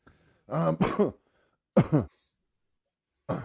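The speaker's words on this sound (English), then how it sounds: "Listen to that smoker's cough." Rough, phlegmy smoker's cough in a few harsh bursts close to the microphone, two clustered hacks, then a pair more after a pause, with a final cough starting at the end.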